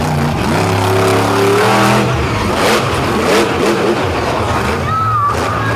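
A monster truck engine revs hard on a beach course, loud and continuous with the pitch rising and falling, set against a crowd and an announcer talking over it.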